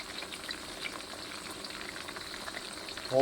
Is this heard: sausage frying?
yes